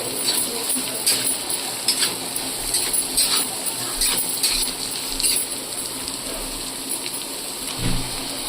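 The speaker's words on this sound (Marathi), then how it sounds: "गाजर शिमला मिरची तर ह्या भाज्या आपल्याला थोड्याशा अशा परतून घ्यायच्या आहेत" Carrots and bell peppers sauté in a pan with a steady broadband sizzle and hiss, dotted with faint scattered clicks and taps of a utensil.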